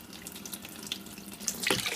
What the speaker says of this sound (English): So I'm going to add about 3 litres of cold water